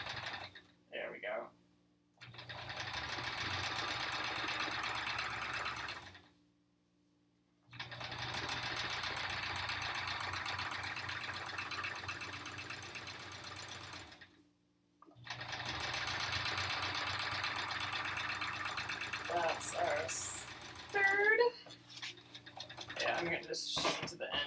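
Sewing machine stitching a foundation paper pieced quilt block in three long steady whirring runs separated by short pauses, with faint clicks and handling sounds near the end.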